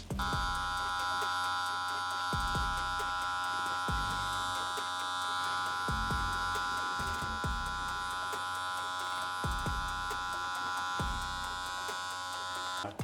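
Electric hair clippers with the lever closed hum steadily while trimming a back taper on a self-haircut, a constant high buzz broken by short repeated strokes and brief dips roughly every one to two seconds.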